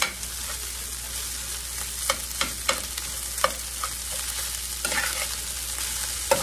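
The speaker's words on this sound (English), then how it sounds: "Let's get some of it stirred up in here." Rice is stirred through hot bacon grease in a pot, with a steady sizzle and repeated scraping strokes of the spoon at an irregular pace, close up and with no talking.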